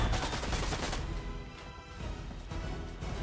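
Gunfire in Fortnite: a loud, close flurry of shots and rapid bursts at the start, followed by scattered further shots over a busy game background.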